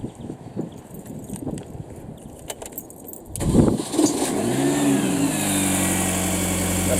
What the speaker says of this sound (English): then start the car up just to check it still runs